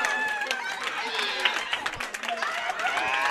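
A crowd at a high school boys bowling championship applauds and cheers a winning strike, scattered claps and excited chatter rising together, with a commentator talking over the noise.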